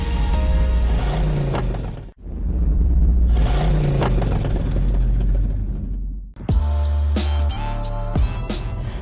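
A Mercedes-Benz GLA 250 4MATIC driving on a town road, heard as a loud, steady engine and road rumble with a smooth swell of acceleration, broken by a couple of brief dips.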